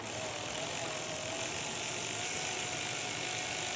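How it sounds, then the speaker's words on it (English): A ratchet spins out a transmission pan bolt on a Ford 6R140, a fast continuous clicking of the pawl, close and steady throughout, with no talking. "I'm gonna go over here and take this bolt out."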